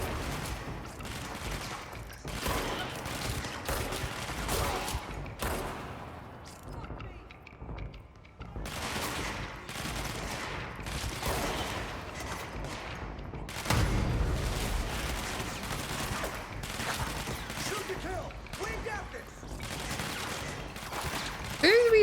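Repeated bursts of gunfire from the video game Control, dense and continuous across the stretch with booming impacts, heard under the voices of players talking.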